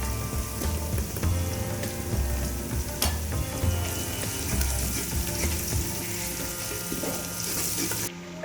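A masala of chilli powder, turmeric and salt fries in oil while being stirred, a dense continuous sizzle with scraping stir strokes, loud and close, and no voices.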